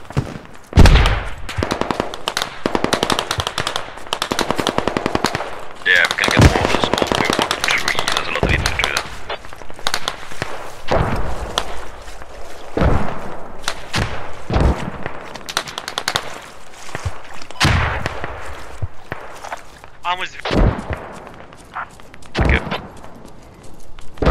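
Repeated loud bursts of automatic gunfire in Escape from Tarkov, sharp shots and rattling volleys scattered across the stretch with brief gaps, and voices talking at times between and under them.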